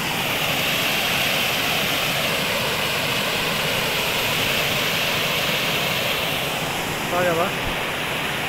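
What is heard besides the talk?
water flowing into a river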